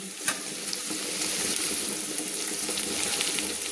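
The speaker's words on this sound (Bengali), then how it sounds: "আমি বেরেস্তা করে নেওয়ার জন্য আমি পেঁয়াজগুলোকে নেড়ে নিচ্ছি।" Onions fry for biryani beresta, a dense, even sizzle close up with scraping stirs that keep on without a break.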